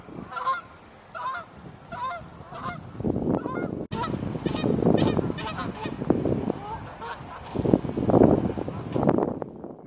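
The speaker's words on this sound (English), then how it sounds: "You notice here the geese are attacking each other" Geese honk loudly and repeatedly in a noisy, agitated flurry as they fight each other at a wildlife refuge, with 15 mph wind gusts buffeting the microphone throughout.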